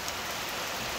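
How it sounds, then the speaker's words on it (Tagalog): Heavy rain falls on a nipa hut in the countryside, making a steady, dense hiss of close rainfall with no talking. "kita nyo naman yung lakas ng ulan"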